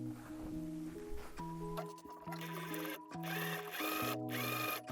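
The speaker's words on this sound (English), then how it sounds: "you can now sew the pocket onto this seam allowance right here" A sewing machine stitches a coat pocket onto a seam allowance, its motor humming in steady runs broken by short pauses, close and clear with no talking.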